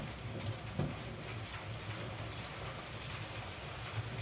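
Moringa leaves rinsed by hand under running water, a steady broadband wash with a few brief splashy bumps, no voices.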